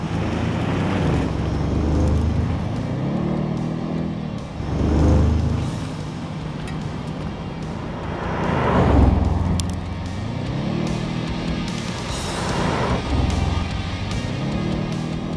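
An Audi RS 6 Avant engine drones steadily while driving, with rising and falling swells of engine note every few seconds under heavy wind and road rush, loud and continuous with no talk.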